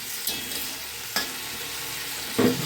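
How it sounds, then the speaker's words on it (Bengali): Water spinach (kolmi shak) with a little sugar stirred in a hot pan: a steady, close oily sizzle broken by three sharp scraping strokes of the spatula, the last one loudest, with no talking. "ভালো করে নাড়িয়ে নিয়ে এবার ঢেকে দেবো"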